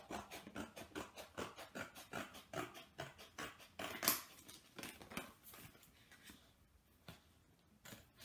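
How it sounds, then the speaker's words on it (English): Scissors cut out a paper triangle for a craft jester's hat, making a steady series of soft, close snipping crunches that slow and thin out toward the end. "And then with an adult's help, cut out your triangle."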